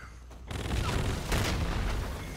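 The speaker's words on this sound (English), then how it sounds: "Grenade out!" Grenade detonating in the online team deathmatch shooter Infinite Warfare, a dense broadband blast that swells at half a second and again around 1.3 seconds, layered over continuous gunfire and battle din with no voices.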